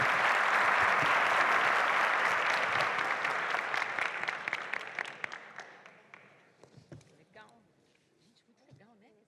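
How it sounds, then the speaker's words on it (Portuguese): Applause for a finalist team at the HackBrazil event of Brazil Conference 2019, a loud, dense crowd ovation that gradually fades into scattered individual claps. "Palmas para a Elidrop"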